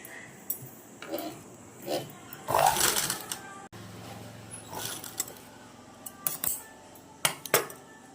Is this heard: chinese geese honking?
no